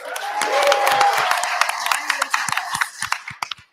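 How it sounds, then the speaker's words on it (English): Applause rises from the audience at a board meeting, dense clapping that thins out into scattered claps, with voices talking over it. "And I want to double down on that round of applause."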